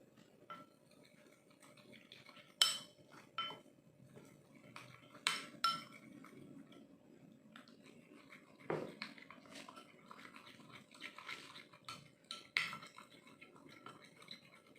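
A spoon stirs a thick, wet paste of flour and water in a bowl up close, mixed as a sealing glue for risoles, with scraping swishes and several sharp clinks against the side, no voices.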